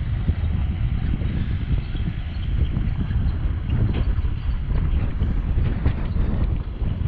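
Strong wind buffets the microphone at a riverside pier in Yakutsk, a loud, steady roar of rumbling gusts that runs unbroken throughout with no voices heard.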